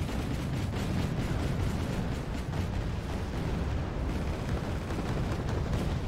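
Explosions rock a naval battle in the Wargame strategy game as a Congo warship is destroyed, a dense, continuous low rumble of blasts and booms with no clear pauses, loud and steady throughout.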